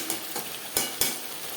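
Potatoes tossed with spices in a frying pan sizzle steadily while a spatula scrapes through them in a few distinct strokes, close and fairly soft.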